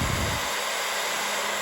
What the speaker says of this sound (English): So you use the blow dryer and you use it on the sticker, right?